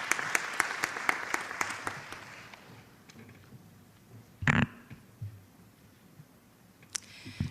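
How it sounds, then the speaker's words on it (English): A hall audience at a collegiate research paper competition claps for the presenters, a dense burst of applause with sharp individual claps that fades after a few seconds, followed by quieter room noise and a few isolated thumps. "Please welcome them with a warm round of applause."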